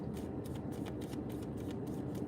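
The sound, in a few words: shuffling tarot cards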